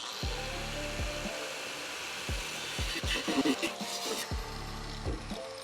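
Metal cutting on a car's firewall patch, a tool grinding through old welds in repeated short bursts with a steady loud background hiss throughout.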